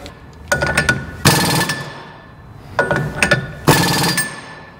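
An impact gun on a suspension bolt of a split-window VW Bus during an independent rear suspension kit install, four loud, close, sharp rattling bursts in two pairs, each under a second, with quiet gaps between.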